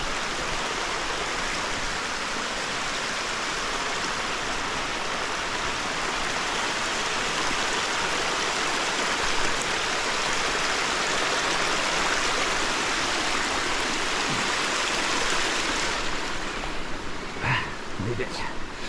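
Broadband rushing water from a woodland stream flows steadily and loudly throughout, with a few faint knocks and brief sounds of movement near the end.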